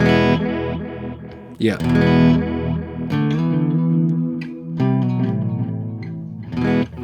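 Electric guitar playing through a stereo delay pedal with its modulation raised, producing lush, wide, chorused repeats and echoing notes that ring out loud and close, with a brief spoken word in between.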